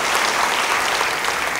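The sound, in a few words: congregation applauding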